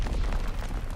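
A combat shotgun blast in the WWII shooter Call of Duty: WWII online multiplayer, heard as a loud, booming burst with dense rumble and rolling low-end that fills the whole moment, no talking.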